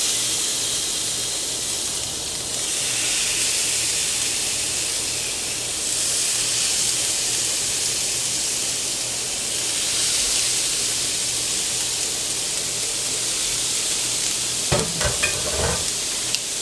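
Chicken pieces sizzling steadily on a hot grill pan, a continuous loud hiss and crackle throughout, with a brief clatter of handling near the end and no talking.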